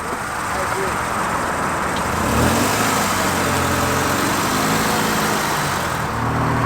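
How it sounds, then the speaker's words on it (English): A Rolls Royce limousine's engine idles and rises in a revving drone ahead of a burnout, the rumble steady and fairly close, with people talking over it. "So let's go do a huge burnout."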